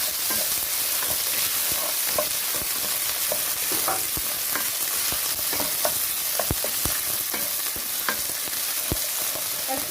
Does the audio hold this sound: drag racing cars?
no